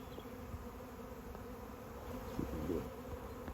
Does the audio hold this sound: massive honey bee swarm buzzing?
yes